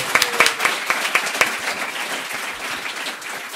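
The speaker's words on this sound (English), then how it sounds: "Round of applause. Round of applause." Audience at a live comedy podcast taping clapping, a brief burst of crisp claps at first that quickly thins into scattered applause and fades.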